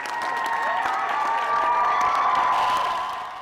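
A commencement crowd rising to cheer and applaud a 105-year-old graduate, with sustained clapping and whoops spread across the room, loud and continuous for the whole stretch.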